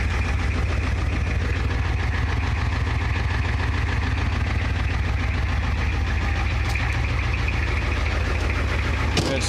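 Idling diesel engine of a 1985 Ford F350 with the International 6.9 IDI, a loud, close, steady low clatter that stays even and rhythmic throughout, with no talking.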